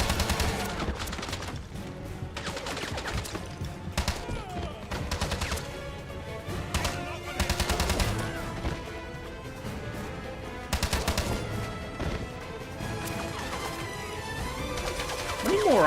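Gunfire from the James Bond 007: Blood Stone video game, dense and continuous bursts of shots layered over music and effects throughout, loud and busy with no clear gaps.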